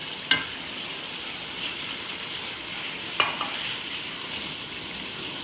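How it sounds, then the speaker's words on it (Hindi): Kabab handi masala roasts in a pan with a continuous soft sizzle, broken by two sharp spoon scrapes and clicks against the pan; no one speaks. "ये देखिए, अब इसकी भुनाई हो रही है।"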